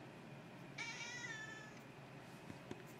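A black tabby cat gives a single drawn-out meow lasting about a second, fairly faint against quiet room noise.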